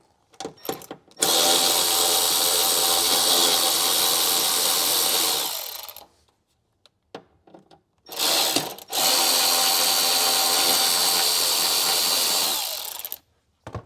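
Power tool, likely an impact or drill, backing bolts out of a 2023 Ford Bronco speaker pod: two long, loud, steady whirring bursts of about five seconds each, close up, separated by a quiet pause with small handling noises.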